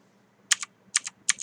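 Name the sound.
pressing plus key on main computer keyboard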